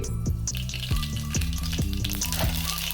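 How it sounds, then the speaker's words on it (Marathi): Mustard seeds sizzle steadily in hot oil on a medium flame, tempering masoor dal; a dense, continuous frying hiss with crackles, under background music and no talking. "फोडणीसाठी सर्वात आपण टाकतोय मोहरी"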